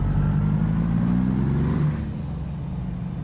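Truck with an 18-speed gearbox in American Truck Simulator, its engine rumbling low and loud and close, then a brief falling hiss as it eases off and settles into a quieter idle.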